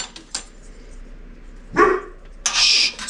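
A dog in a garage workshop gives a couple of sharp, close barks separated by a short pause, loud against a quiet background.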